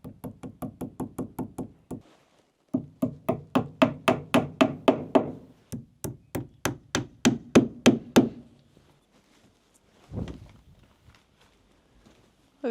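Hammer blows striking wood while a modular bed frame is built for a tiny off-grid cabin in Alaska, loud close knocks in quick rhythmic bursts of about eight to ten strikes separated by short pauses.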